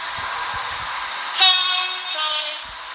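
A Class 170 train passes through a station in the Roblox Stepford County Railway game, a steady loud rumble of rail noise with a brief horn blast in the middle, all close and continuous.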